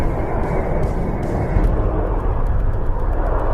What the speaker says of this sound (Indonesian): Namun tiba-tiba mereka melihat ada sebuah pesawat.